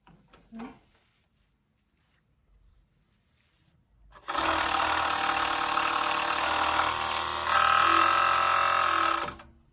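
An industrial Kwonclan / Siruba overlock serger stitches through fabric. After about four seconds of quiet handling, a loud, steady mechanical whir starts and runs to the end, rising briefly in intensity near the finish.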